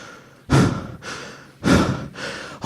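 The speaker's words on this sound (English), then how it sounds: "Once their duel was finished, they lay on the floor, panting." Heavy breathing after a sword duel: two strong, close inhales or exhales, each followed by a softer trailing breath, in a slow rhythmic pattern with no talking.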